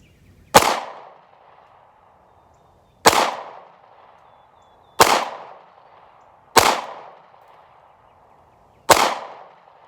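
An SCCY CPX-2 pistol is fired at targets, five sharp, loud gunshots spaced about two seconds apart, each followed by a short decaying echo at an outdoor range, with no speech.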